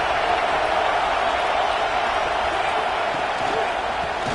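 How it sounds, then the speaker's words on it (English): Football stadium crowd cheering, a loud, unbroken roar of many voices with claps and whoops blended into a dense wall of noise, with no talk over it. "This crowd ready to make its presence known."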